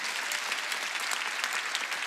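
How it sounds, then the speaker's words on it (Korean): A church congregation breaking into applause, a dense, bright wash of many hands clapping steadily at moderate loudness with no voices over it. "깨달은 사람 박수."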